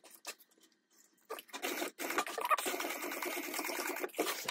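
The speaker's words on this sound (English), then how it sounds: "I'm gonna backstitch at the bulky seam for the divider." A sewing machine backstitches over a bulky divider seam on a fabric tote bag, quiet stuttering bursts that settle into a faint continuous whir, close by.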